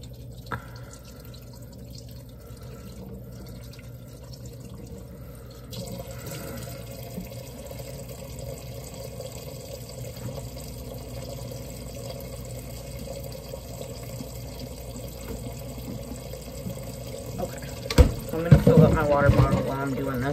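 Tap water running and dripping into a sink while bottles are washed, a steady low wash through most of the stretch, with clattering and splashing growing louder near the end.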